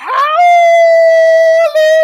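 A person imitates a wolf howl with a loud, close voice: a rising opening swoops into one long sustained note, then a brief break and a short final howl.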